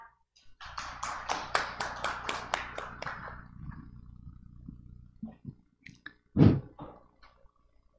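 Applause from a conference audience at a Korean blockchain and digital assets forum: a dense burst of clapping swells for about three seconds and then thins into scattered claps, with a sharp single knock near the end.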